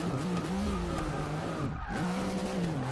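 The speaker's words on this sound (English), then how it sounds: "You can hear that engine, man, when we got in that tunnel, is just screaming bloody murder" The engine of a slammed VW van in Forza Motorsport 6 screams at high revs with a loud, continuous whine. The pitch dips briefly and then climbs again, and tire squeal is mixed in, with no voices.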